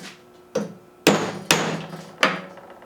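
A hammer strikes a nail held in a nail holder with four sharp metallic blows at uneven intervals, each ringing briefly before the next, and no talk.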